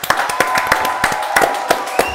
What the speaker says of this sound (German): Großer Applaus an Thomas!